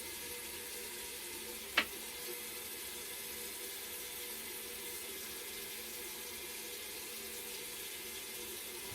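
Tap water runs steadily into a sink with a soft, constant hiss, and a single sharp clink cuts through near the start.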